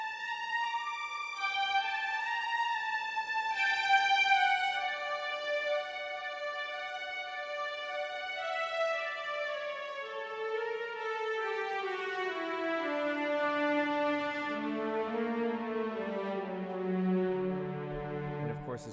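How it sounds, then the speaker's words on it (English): Sampled violin and viola legato sustains, played as an orchestral mockup, glide smoothly from note to note, starting high and stepping steadily downward, with lower string tones joining toward the end. No one speaks over the music. "I've got a couple of different violin and viola performance legato samples."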